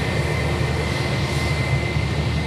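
A Manchester 321 airliner taxis along taxiway Charlie toward the domestic terminal at Sydney Airport, a steady, loud broadband jet roar with a sustained high whine, unbroken and without voices.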